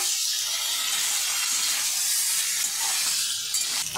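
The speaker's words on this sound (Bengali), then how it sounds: "এখন আমি উচ্ছেটা দিয়ে ভালো করে আরেকটু কষিয়ে নেব।" Bitter gourd cooked down with ground ginger, cumin, chilli and salt in a pan for a fish curry, giving a steady close sizzling hiss with faint stirring scrapes, no voices.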